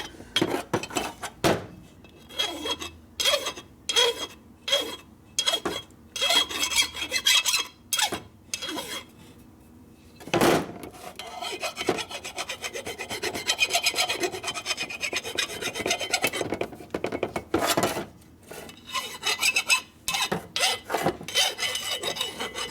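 An aluminum transmission case from a 1952 Harley-Davidson panhead 4-speed is worked with a hand file: close, harsh rasping strokes in uneven bursts with brief pauses, and a louder scrape partway through.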